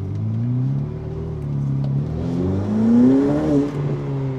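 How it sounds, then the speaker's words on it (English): A Ferrari F8 Tributo's exhaust swells under light throttle as the valves open, a steady mid-pitched engine drone rising and falling in tone, close and continuous with no talking. "from light inputs on the throttle, you get the exhaust valves that open up."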